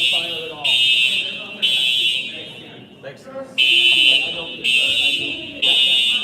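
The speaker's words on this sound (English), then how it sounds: "Fire alarm pulled." A pulled fire alarm rings in loud, steady bursts of a high electronic tone, roughly one second on and one second off, with agitated voices talking underneath and between the blasts.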